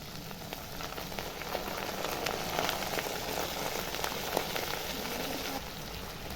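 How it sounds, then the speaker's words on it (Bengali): Steady, soft sizzling and crackling as washed potatoes go into a pan of cooking red amaranth greens, a continuous fry hiss with scattered pops and no talking. "এবার আলুগুলো নিয়ে দিয়ে দেবো হাতে করে ছেঁকে"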